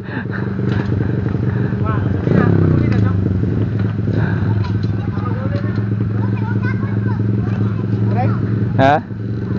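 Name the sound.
motorcycle riding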